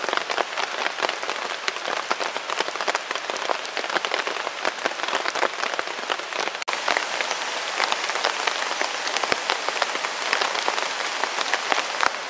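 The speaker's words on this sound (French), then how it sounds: "il pleut de plus en plus fort" Heavy rain pouring on a bushcraft camp in the woods, a dense, steady hiss of countless drops drumming on tarp and surfaces, with sharper close splats scattered throughout, continuous and loud, no voices.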